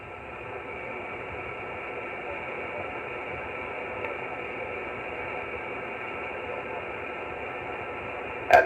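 Band-limited hiss of 20m ham radio static from a Yaesu FT101E receiver, loud and steady throughout with no voice, ending in a brief burst at the very end.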